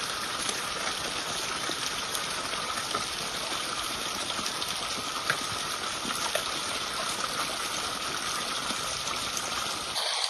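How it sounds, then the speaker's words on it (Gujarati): Water pouring steadily from a pipeline into a peanut field on a farm, a constant broadband rush and splash heard close and alone, unbroken for the whole stretch. "અમે આ પાઇપલાઇનમાંથી પાણી કાઢી અને કરતા હોઈએ છીએ."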